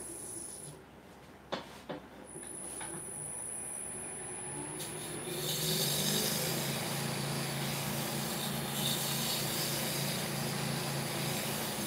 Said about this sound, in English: the wood and just getting very nice fine shavings off.